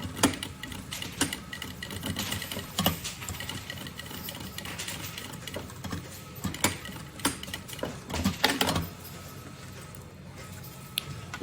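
A sewing machine runs an edge seam through synthetic fabric and lining for a bunny backpack, a fast, steady mechanical whirr with short pauses and restarts, close and alone.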